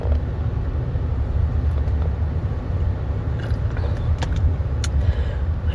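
Heard from inside a moving car, a loud, steady low engine drone and road rumble continues throughout, with a few faint clicks and taps near the end.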